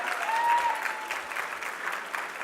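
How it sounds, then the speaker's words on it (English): Audience applause at an awards and scholarship fundraising dinner, honoring the evening's MC: a steady wash of many hands clapping throughout, moderately loud and filling the room, with no speech over it. "I want everybody to give you loudest applause to recognize our MC of the evening, Miss Sharon Ito"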